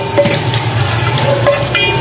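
Ginger drops into hot oil in a cooking pan for ginataang hipon, giving a steady loud close sizzle and crackle with small pops throughout, outdoors beside a barbecue area.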